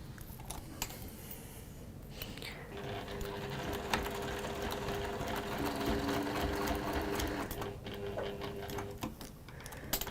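A sewing machine stitches along fabric with a steady, fast mechanical whirr and rapid needle ticking. It starts after a brief pause, runs continuously at moderate volume, and eases off near the end.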